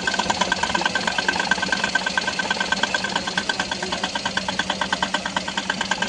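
A Suzuki Alto engine idling with the clutch pressed, a steady rhythmic chugging idle with a faint ticking knock pulsing at regular intervals, close and continuous.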